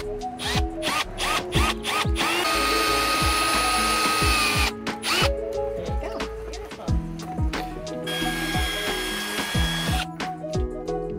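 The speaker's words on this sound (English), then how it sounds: "so now we're gonna take it over and drill some bolts" A power drill drives bolts for a car phone mount, its motor whirring in repeated bursts of varying length, with sharp clicks and the clutch ratcheting between runs, close and loud throughout.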